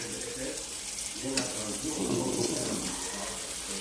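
Tap water runs continuously into a sink while vegetables are rinsed. A steady close splashing hiss is broken by occasional small knocks.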